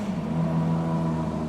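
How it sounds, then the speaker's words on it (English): A 2024 Ferrari Purosangue with a 6.5-litre V12 engine runs steadily with a deep, even drone and a strong low hum, loud and close, with no talk over it. "the V12 engine. It's a sound you can't replicate really."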